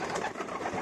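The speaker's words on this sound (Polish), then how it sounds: "tu mam gołąbka na oddziale" A pigeon in a loft gives a short, soft, breathy coo, close by and alone.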